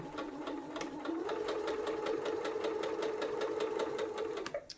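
Sewing machine stitching a quarter-inch seam as fabric is guided through, a steady fast mechanical whirr with rapid rhythmic needle clicks running close and loud for about four seconds before stopping.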